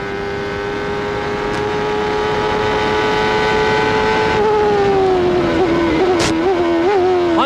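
A CART race car in the 1994 Toronto race screams down the straight at about 12,000 rpm, its loud, piercing engine note holding steady and then dipping through gear changes as it nears the brakes, with no talking.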